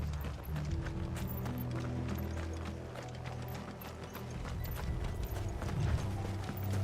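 Horse hooves clip-clop in Final Fantasy 16, a continuous rhythmic trot of hoofbeats layered over game music and ambience, moderately loud and steady across the whole stretch.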